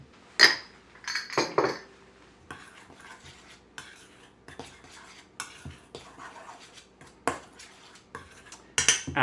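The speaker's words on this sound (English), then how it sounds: "I'm going to mix together my flour, my baking powder," Flour, baking powder and salt being stirred in a bowl for a gluten-free shortcake, with scattered clinks and scrapes of a utensil against the bowl, a few sharper knocks, and quiet rustling between them.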